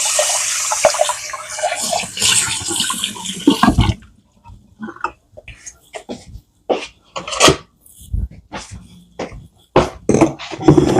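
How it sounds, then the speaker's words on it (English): A bowl is rinsed under a running kitchen tap for the first few seconds, a loud steady water rush, followed by intermittent splashes, clunks and handling noises as the water stops. "let me rinse this out"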